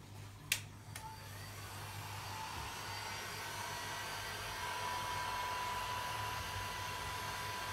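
Heat tool blowing hot air over a dark and light acrylic flip cup pour on canvas, a steady loud whooshing drone that runs unbroken after a brief click at the start.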